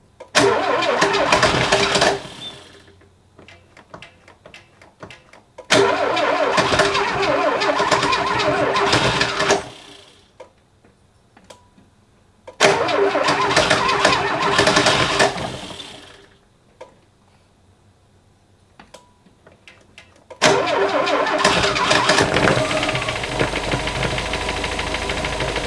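A Volvo 340 car engine is cranked and fires in repeated bursts, catching and revving loudly several times with quiet pauses between, then settling into a steady close idle at the end.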